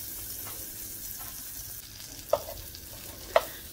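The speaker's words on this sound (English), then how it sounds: "So I just went ahead and put some butter in that pot. Get it nicely melted." Butter melts in a pot with a faint, steady sizzle, and two short clicks from a utensil stand out near the end.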